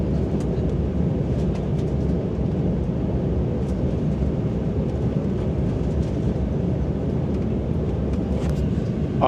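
Cabin of a Helvetic Airways airliner on landing approach, a dense continuous low roar of engine and airflow noise, steady and enveloping, with faint scattered clicks and rattles over it.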